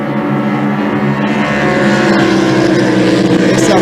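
Racing boats with big engines roar past at a circle-boat regatta, a loud sustained throaty drone that swells and holds steady, with water and wind noise underneath.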